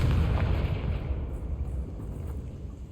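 A Confringo blasting curse explosion in the Hogwarts Legacy video game gives a loud low boom that rumbles and slowly fades over about three seconds, with no talking.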